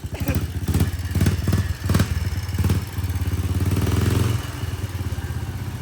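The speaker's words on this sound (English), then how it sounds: "It sounds really good. The custom exhaust is nice." A Little Tikes Cozy Coupe toy car fitted with an engine and custom exhaust revs and idles nearby, throaty, rumbling exhaust, throttle blips rising and falling before settling into a steady putter.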